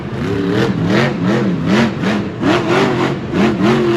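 The Black Pearl monster truck's engine revs at a Monster Jam event in Orlando, Florida, loud and near, climbing and falling in rhythmic surges over a few seconds with no voices.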